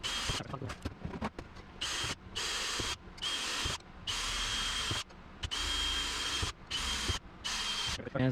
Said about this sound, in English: And we will just match drill all of these holes.